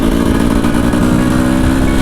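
A small 125cc enduro motorcycle engine runs loud and close with a steady, dense buzzing drone that holds without pause throughout.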